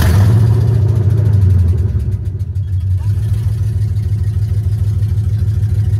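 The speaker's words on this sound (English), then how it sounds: "So yeah, we're gonna give it a first start and then go to the exhaust shop." A Chrysler 300C fitted with long tube headers and no exhaust fires up for the first time, a loud, rough engine rumble that drops slightly then settles into a steady, throbbing idle close by.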